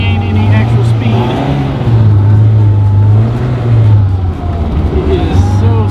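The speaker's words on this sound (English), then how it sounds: "when I give it gas, I don't really gain any actual speed" A Classic Mini's engine revs loudly and steadily as its wheels spin without grip on a slippery frozen lake, the drone rising and falling close by, with a voice heard over it.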